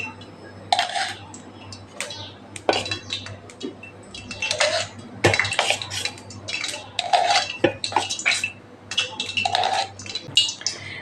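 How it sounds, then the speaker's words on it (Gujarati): A metal sev press being filled with dough, giving irregular clinks, knocks and rattles of metal utensils against each other close by, coming in short bursts. "હવે આપણે સંચામાં લોટને ભરી લેશું"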